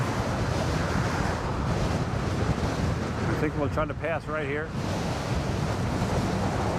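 A strong, gusty headwind roars steadily across the microphone while riding an MSX along Fort Myers Beach, with someone speaking briefly over the buffeting.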